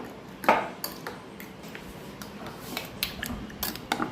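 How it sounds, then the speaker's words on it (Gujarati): A spoon stirs detox water in a container, giving faint scattered clinks and pings against the sides at an irregular pace. "હવે એક સ્પૂન આને આ પ્રોપરલી હલાવી દઈએ."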